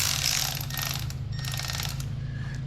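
A ratchet works loose the bolts of an EGR tube on an EcoDiesel engine, giving quick bursts of clicking close up over a low hum, with no talk.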